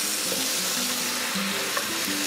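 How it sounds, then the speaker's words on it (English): Lamb pieces frying with curry paste in a pot, a steady close, loud sizzle running without a break, with a faint scraping of stirring. "So you're just gonna mix the lamb and that curry paste."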